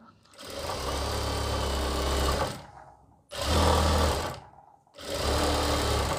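An electric sewing machine stitches pant fabric, a front-belt, back-elastic pant, in three loud, steady runs of whirring and rapid needle clatter separated by brief pauses.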